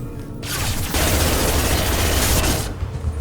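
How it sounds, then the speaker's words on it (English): Sustained burst of heavy gunfire in the Mass Effect 2 video game, dense booming shots rolling together loudly for about two seconds before cutting off. "I'll just blow it up with the guns."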